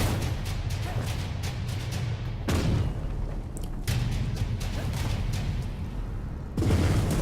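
Dense, continuous booming and crackling explosions in the video game Jotun, with sharp blasts recurring every few seconds over a rumbling barrage.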